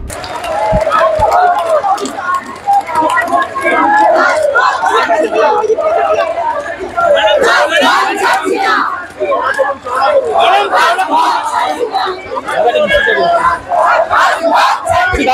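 Thousands of teachers who lost their jobs chant slogans together at a peaceful rally outside the SSC office, loud rhythmic shouted calls repeated in waves with brief pauses, a dense crowd close by.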